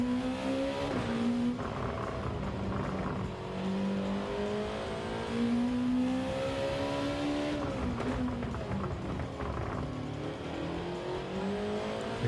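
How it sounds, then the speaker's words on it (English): A race car in a video game brakes and downshifts into a hairpin at the Nurburgring. The engine note drops and then climbs again in loud, close revving sweeps, with a brief tyre squeal. "coming down the main straight to the first hairpin, hit the brakes on the 100 metre board, down to second, tight on the curb"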